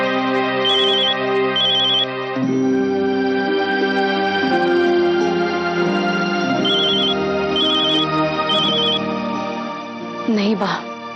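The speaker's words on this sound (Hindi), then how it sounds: "संजय फोन नहीं उठा रहा" A telephone rings unanswered in a Hindi television drama. Short repeated ringtone bursts sound over a steady tonal background, with a brief clatter near the end.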